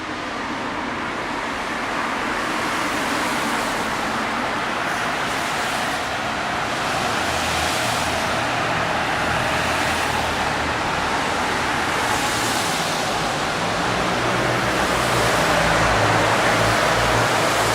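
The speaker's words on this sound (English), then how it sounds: "Sounds like a car race going on." Cars passing on a snowy Toronto street at night, a continuous loud rushing roar of traffic and tire hiss with gentle swells, no talking.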